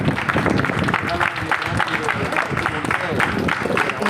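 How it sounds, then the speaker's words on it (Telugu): Applause for a guest at an Independence Day celebration at a school for the blind: a steady, dense wash of clapping from a gathered crowd that runs the whole time, with voices mixed in underneath. "అందరికీ క్లాప్స్ ఉంటుంది సార్"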